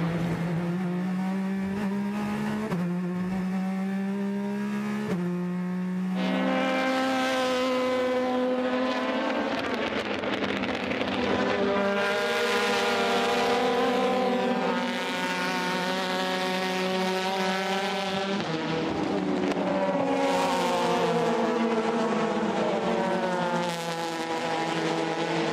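Race cars at the 24 Hours of Le Mans, among them a Ferrari, roar past one after another with loud, rising and falling engine notes and Doppler sweeps, their howls overlapping continuously.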